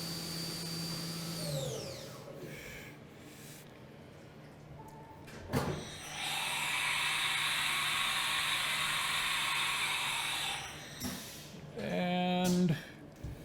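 A Haas Mini Mill CNC machine drills one-inch-thick material at 10,000 RPM on a fast peck cycle, with whirring spindle pitch sweeps, a sharp clunk, and a long loud steady whine followed by stuttering pecks.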